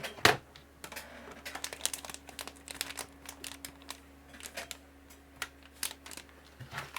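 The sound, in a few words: computer keyboard being handled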